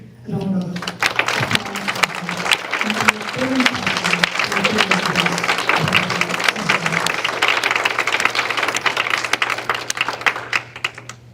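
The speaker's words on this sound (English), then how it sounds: "let us give a big round of applause" An audience at a Guru Purnima celebration in Kentucky bursts into sustained applause, dense clapping that rises quickly and holds for several seconds before fading, with a voice speaking over the start.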